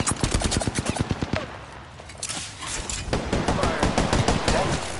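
Rapid automatic gunfire in the battle royale game Apex, a loud close burst of evenly spaced shots followed by more sustained firing and impacts, with voices talking over it.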